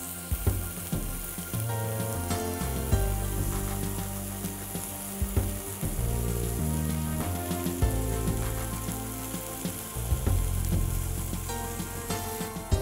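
Morel mushrooms cook gently in a pan with a continuous close bubbling sizzle and crackle, steady and moderate in level, with occasional clinks and stirring sounds and no talking.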